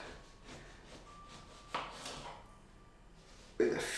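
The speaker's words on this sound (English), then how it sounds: "we're going to start off by chopping some of our fruit" A knife cuts orange slices on a chopping board with a few soft, quiet thuds spread out among faint background noise.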